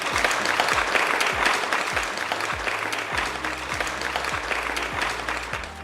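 Large audience at an Indian agricultural farmers' event, Krishi Chaupal, breaks into sustained loud applause, dense clapping carrying steadily through the whole stretch at an even level.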